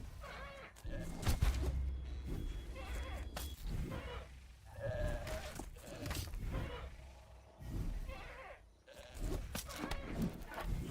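Goats bleating in a stampede in the medieval survival game Pax Dei, many overlapping cries repeating in quick irregular bursts, fairly close and busy throughout.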